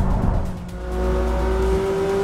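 A McLaren 570S supercar with a high-revving engine climbing through its rev range, a loud steady engine drone with a rising tone, close and continuous, no voices.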